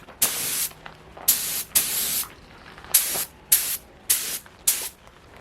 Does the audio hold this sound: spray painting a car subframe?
yes